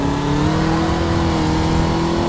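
Formula Vee race car with a VW Beetle engine and four-speed gearbox, in a sim racing game at Buenos Aires, revving loud and close with a steady droning engine note that holds its pitch.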